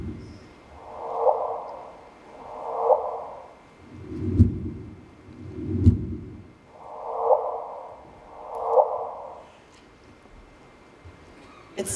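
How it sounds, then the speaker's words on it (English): A gravitational-wave sonification of two black holes merging plays as six slow, breathy whooshing swells, evenly spaced and alternating between a higher and a lower pitch, each rising and fading, then a quiet tail. "So here is the sound of two black holes merging."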